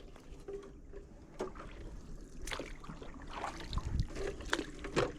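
A small boat pushed along by a pole moves through tidal sea water on a crab-catching trip, giving soft lapping, trickling and splashing water sounds that are faint and close, with no talking.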